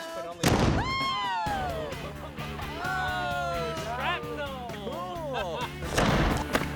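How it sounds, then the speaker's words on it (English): A loud boom bursts at the start as a cannon fires a block of cheese, followed by clattering debris and voices talking and exclaiming, with a second blast-like burst near the end. "the cannon has blown chunks of charred cheese all over the deck"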